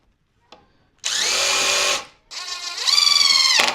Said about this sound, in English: And again, we're gonna countersink this one.